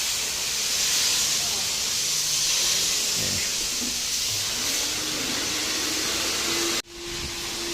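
Water spray washing an item, a loud, steady hissing jet that runs for several seconds and then cuts off abruptly, with a faint tone lingering after.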